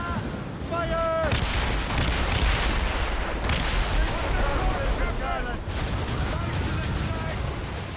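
Heavy, repeated cannon fire from a ship in the video game Assassin's Creed Rogue, dense booming blasts rolling continuously while crew members shout over the barrage.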